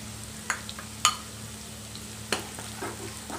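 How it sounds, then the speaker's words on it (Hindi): Chopped ginger, garlic and cumin seeds frying in hot oil in a pan for a restaurant-style Chicken 65: a steady close sizzle with a few sharp clicks of stirring, no talking. "अब इसमें अदरक लहसुन हमने चॉप करके जो रखे थे वो डालेंगे, उसको 1 मिनट के लिए थोड़ा भून कर लेंगे"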